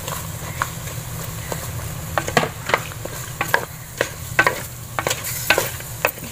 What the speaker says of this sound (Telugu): వేసి బాగా ఇంకొక 3 నిమిషాలు మనం ఇలాగే ఫ్రై అవనివ్వాలి అల్లం వెల్లుల్లిపాయ పేస్ట్ వేసిన తర్వాత